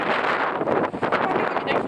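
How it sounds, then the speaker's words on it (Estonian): Strong wind buffets the microphone outdoors in Costa Rica, a steady broadband rush with gusty swells across the whole two seconds, close and loud. "Okei, siin on päris tuul."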